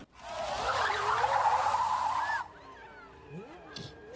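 A car brakes hard and skids in an action film scene, a loud sustained tire squeal lasting about two seconds before cutting off, followed by quieter engine and background sounds.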